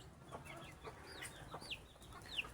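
A broody mother hen clucks softly among her chicks, with several short rising chirps standing out over a low farmyard background, the calls coming in loose, irregular bursts.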